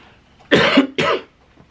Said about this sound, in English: I start talking too much and then I start coughing